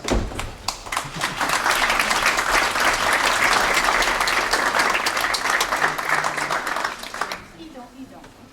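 Audience applause at a university academic-year inauguration ceremony, a steady wash of many hands clapping for about seven seconds before fading, with a voice faintly underneath.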